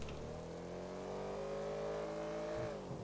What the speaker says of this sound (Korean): 아따 엔진 소리 지리네.